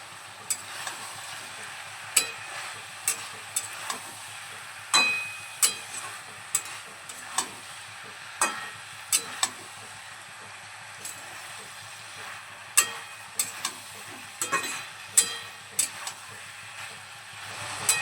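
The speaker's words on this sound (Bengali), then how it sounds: "ধনে পাতাটা সবজিগুলোর সঙ্গে খুব ভালোভাবে মিশিয়ে নেবো" Chopped coriander leaves are stirred into a cauliflower-stalk chorchori in a pan: a quiet sizzle runs throughout, punctuated by frequent crisp spatula scrapes and taps at an uneven rhythm.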